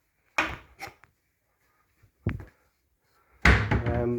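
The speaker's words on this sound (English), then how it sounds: "Yes, look, it can open cupboards." Kitchen gadget opening a cupboard door: a few sharp thumps and clacks of the door and mechanism, spaced apart, followed by a louder clattering knock near the end.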